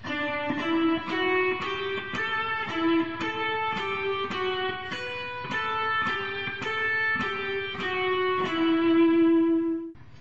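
A plucked guitar plays a steady single-note melody from Pachelbel's Canon in D, each note clearly attacked and ringing briefly, moderately quiet and alone.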